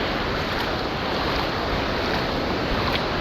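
Loud, steady roar of the sea, a thick unbroken rush of surf noise with a faint windy edge, continuing throughout without any speech.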